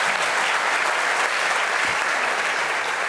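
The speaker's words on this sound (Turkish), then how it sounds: "Yine alkışlayacağız maalesef" A talent show audience applauds with dense, loud, even clapping that carries on steadily from start to finish, and a faint voice is briefly heard underneath.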